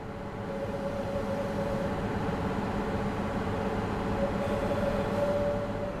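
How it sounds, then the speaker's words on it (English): A DB BR 642 diesel multiple unit runs steadily on the Maintal line in Train Sim World 4, a constant engine drone and rolling rumble with a faint whine. "Your next adventure awaits aboard the sleek DB-BR 642 DMU"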